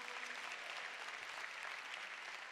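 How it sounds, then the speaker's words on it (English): A gathering at a Saturday morning forum gives Brother Maurice Mahan a warm round of applause, a soft, even patter of clapping that holds steady throughout. "Give him another loving round of applause."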